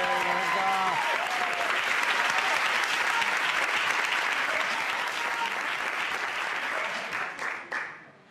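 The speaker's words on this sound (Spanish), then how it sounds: "un aplauso para él" Audience applause for a performer's father at a Spanish stand-up comedy show, dense sustained clapping from a crowd that fades out near the end, with a voice briefly heard at the start.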